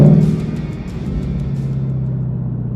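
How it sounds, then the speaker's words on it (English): A 2019 Ford Mustang GT Convertible V8 rumbles close up as the revs drop away after a rev-matched downshift, then settles into a steady low drone under way. "The sweet music of rev matching."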